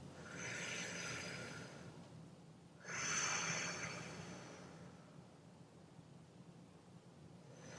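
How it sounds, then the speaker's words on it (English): Two slow breaths sound close and soft, each a hissing airy pass through the nose, the second a touch stronger, then a quiet pause, during a calming breathing exercise with equal inhales and exhales. "And when I say balance, I mean equal inhales and exhales."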